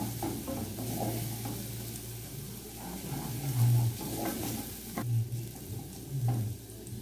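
Garlic browns in a pan for a potato gnocchi sauce, giving a steady close sizzle with stirring scrapes and occasional spoon knocks throughout, with no talk.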